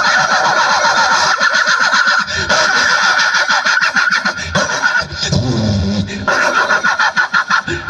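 A voice imitates a vehicle engine being push-started, sputtering and coughing, then catching into a loud, continuous revving drone with choppy bursts, delivered as a comedy act.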